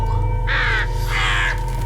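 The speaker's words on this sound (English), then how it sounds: "Oh, that's a creepy shot of the crows." Two harsh, drawn-out crow caws from the TV series Hannibal, loud and close, one after the other over a low steady hum, with no talk.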